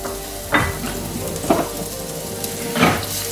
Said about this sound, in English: In my pan, I have a tablespoon of oil heating up. I'm gonna add the onions, garlic, and ginger.